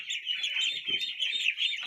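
A flock of ducks, including crested ducks, kept in a damp pen in the evening, gives a continuous, busy chorus of high, overlapping peeping calls close by.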